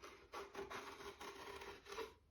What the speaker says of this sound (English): And this one slices in.